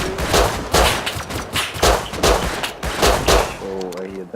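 Repeated pistol shots crack out in the survival video game Rust, loud bursts arriving in an irregular rhythm of single and doubled shots, with a short voiced sound near the end.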